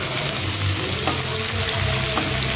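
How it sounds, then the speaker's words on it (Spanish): Small shrimp tails sauté with chile and onion in a pan, a loud, dense frying sizzle broken by occasional stirring clicks. "Vamos a sofreír los camarones, las colitas de camaroncito."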